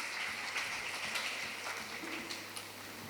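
An audience at a Teachers' Day function claps together, a faint, distant, steady patter of many hands that carries on evenly for a few seconds.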